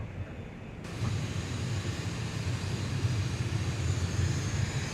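Simulated Boeing 737-800 engines hum at idle as the airliner taxis in a flight simulator game, a steady low whine and rumble that swells after the first second and holds steady, with no talking.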